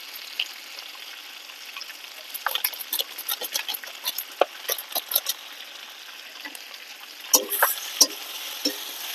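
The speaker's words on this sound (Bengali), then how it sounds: "ভালো করে নেড়ে চেড়ে নেবো, কষিয়ে নেবো" Chicken being stirred with chicken masala in a pan for chicken polao: a low sizzle under repeated scraping and clinking strokes of a spoon, close and irregular, with a brief pause before a final burst of stirring.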